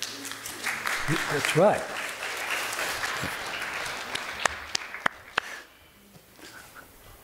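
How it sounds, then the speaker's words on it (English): A church congregation breaks into spontaneous applause while voices talk over it, the clapping fading to a few scattered claps near the end. "I enjoy spontaneous applause at God's word."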